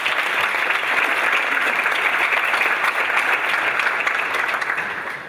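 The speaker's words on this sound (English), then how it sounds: "Could you please give them a round of applause for this?" An audience at a conference fills the hall with steady, dense applause for the organising committee members, loud and sustained before tapering off slightly at the end.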